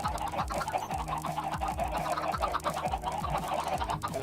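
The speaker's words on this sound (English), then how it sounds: "we're going to have to be annoyed by chickens making a lot of noise" Chickens clucking in the video game Minecraft, a steady, busy chatter of repeated clucks layered over continuous background game noise, with no talking.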